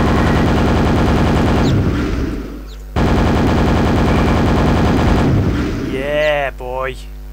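A nail gun fires in the video game Quake in two long, loud, rapid mechanical bursts separated by a short gap, with game effects and a voice talking near the end.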